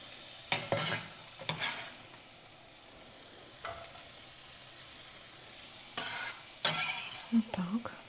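Meat frying in oil in a pan, with a soft steady sizzle and several bursts of scraping as it is stirred, close and fairly quiet, with no voices.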